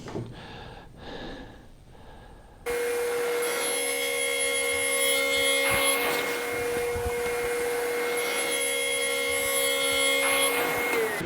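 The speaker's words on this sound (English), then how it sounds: "And there's our kerf cuts getting started right there." A table saw starts up partway through and makes kerf cuts in melamine, holding a loud, steady whine with a sharp tonal ring over a rough cutting rasp.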